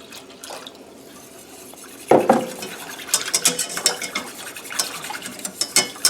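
Milk is poured into a roux in a pan and stirred, with a sudden splash followed by repeated scraping and clinking of a utensil against cookware, close and without voices.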